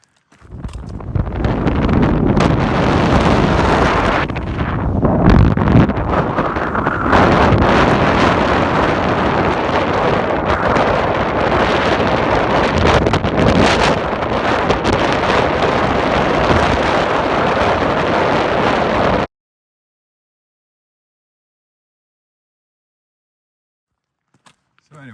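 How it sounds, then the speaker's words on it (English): Strong cold wind on a mountain hike up Sentinel Peak in South Kananaskis, Alberta, roaring loud and steady against the microphone for about twenty seconds with gusty swells before cutting to silence. "I'll put a video clip up I got of the wind. It was brutal."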